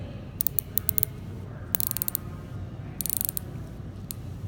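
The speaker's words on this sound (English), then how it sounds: "Let's listen to the bezel." Bezel of a Tudor Pelagos dive watch being rotated, producing bursts of sharp, close ratchet clicks in quick runs separated by short pauses, over a soft background hum.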